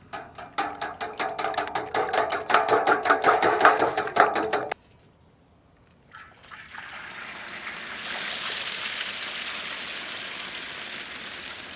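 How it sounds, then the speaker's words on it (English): Eggs whisked in a bowl for golden shrimp fried rice: a fast, steady rhythmic clatter for about five seconds, then a brief silence before a broad, soft hiss rises and continues to the end. "Whisk eggs."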